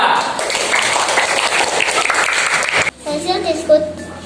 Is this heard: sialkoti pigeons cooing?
no